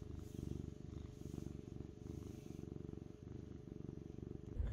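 A contented cat purring up close, a steady low rumbling rhythm of pulsing breaths that continues for several seconds without talk.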